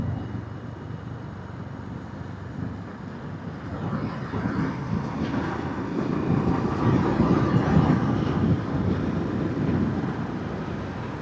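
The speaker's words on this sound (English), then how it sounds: "Tractor, I think." A tractor engine approaching along a road on an October evening, a steady low rumble under faint wind that grows gradually louder as it nears, with no talking.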